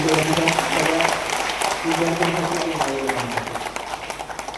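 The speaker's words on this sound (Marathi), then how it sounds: "एक मोठा टाळ्यांचा हात होऊन जाऊ दे सम्यक विद्यार्थी" A crowd at a political rally in Nashik applauds in a dense wash of clapping while a voice carries on over it, the noise slowly fading toward the end.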